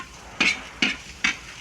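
A spoon stirs a simmering pork leg stew with peanut butter in a pot, four evenly spaced scraping strokes over a faint sizzling bubble, close and clear.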